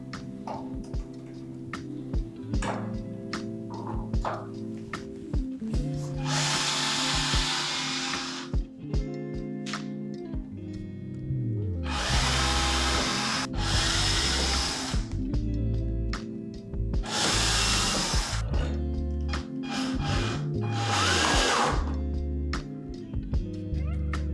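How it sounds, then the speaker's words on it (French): A power drill pre-drills holes in wood in four loud bursts of a few seconds each, separated by quieter handling and ticking noises. "Quand on repère les trous, on va pré-percer, ça évitera d'exploser le bois en vissant directement."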